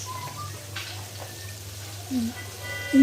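Shrimp and sweet pumpkin curry with salt, turmeric, chili and cumin powder stirred in a pan, a soft continuous sizzle with faint scraping and a couple of brief clanks near the end.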